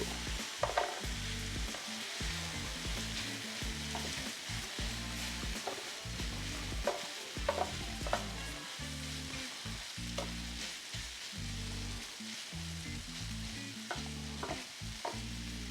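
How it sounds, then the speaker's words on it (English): Stir fry sizzles and crackles steadily on a Ninja Foodi Pro XL grill and griddle while being mixed and broken up, with repeated scraping and stirring clatter throughout and no talking. "I'm gonna start breaking this down, mixing it, combining it. Just like any other griddle stir fry"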